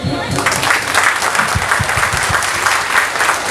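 Outdoor crowd applauding at a community sporting event in Florange, France, a dense continuous burst of clapping heard fairly close and loud throughout.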